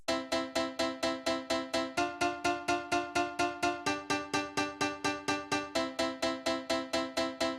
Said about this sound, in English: Our second piano sounds like this.